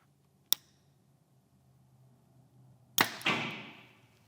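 A TAC arrow is loosed from a bow through a chronograph: a sharp snap at release, a quiet pause, then a loud impact followed by a fading rattling whoosh, close and without talk.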